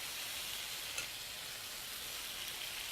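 Beef strips for a broccoli beef stir-fry sizzling in a very hot pan, a steady, fairly quiet hiss of frying with no talk.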